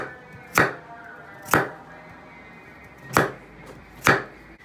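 Knife chopping potatoes on a cutting board for a tomato-paste meatball stew, four crisp separate chops spaced about a second apart, close and clear over a quiet kitchen background.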